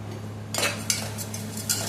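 A spoon stirs cumin-scented seeraga samba rice in a metal pot, giving a few soft scraping clinks against the sides over a low steady hum, quiet and close.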